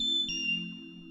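A Kawai K3 synthesizer sustains a single steady note from its additive user waveform, built from stacked sine harmonics, a pure glassy tone that fades slightly over about a second.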